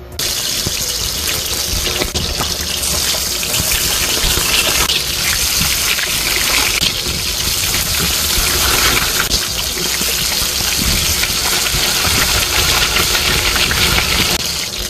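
Hot cooking oil fries vegetables in a pan with a loud, continuous, bright sizzle that stays steady and close throughout, with no talking over it.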